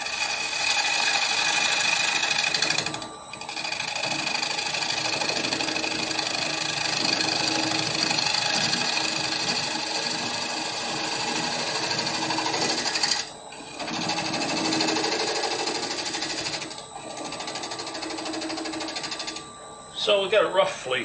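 A wood lathe turns a dried green bowl with steady, loud whirring and scraping from the cutting tool, briefly pausing a few times before resuming, with no talk over it.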